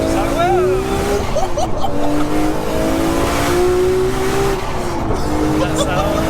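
Nissan GTR R34 with an 800 bhp 2.8-litre RB26 stroker, big turbo and manual gearbox, accelerating hard up close, engine note climbing and dropping through gear changes in a continuous loud pull, with voices over it.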